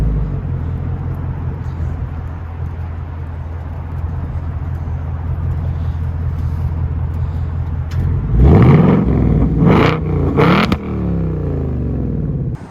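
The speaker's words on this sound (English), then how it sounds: "the stock exhaust on these S650 Mustang is just really loud" A 2024 Ford Mustang GT S650 with its stock active V8 exhaust idles in a loud, steady burble, then snaps through several sharp revs that roar and crackle before settling back to idle.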